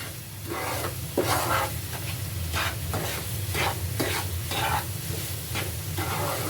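A spoon stirs Amrut Pak barfi mixture with milk powder in a pan on the gas, giving steady, rhythmic scraping strokes over a continuous low sizzle, close and clear with no voices.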